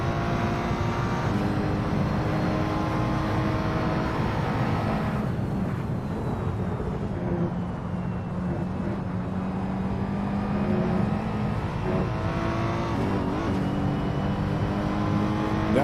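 Race cars in Assetto Corsa lapping Autodromo Nazionale Monza: a continuous loud engine drone with revving and shifting pitch as cars pass and accelerate, with no pauses throughout.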